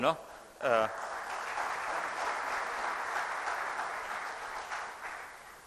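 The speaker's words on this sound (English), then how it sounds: "So please, with that round of applause" Steady applause from a large lecture audience fills the whole stretch, a dense wash of clapping that holds even throughout, with a brief voice at the start.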